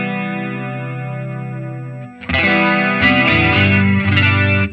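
Electric guitar through a Line 6 HX unit with the headroom preamp grit effect, a sustained distorted chord ringing out, then a louder strummed gritty passage with chorus-like shimmer, close and alone.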